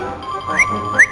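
Whistled imitation of a little bird: a steady pure whistle tone broken by two quick upward chirps, close and moderately loud, with no talk.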